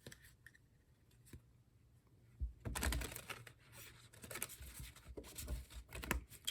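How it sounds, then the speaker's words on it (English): A deck of tarot cards being shuffled by hand, quiet riffling and sliding bursts that start faint and grow into denser flurries of card noise near the microphone, with no talking. "Let's do some shuffling."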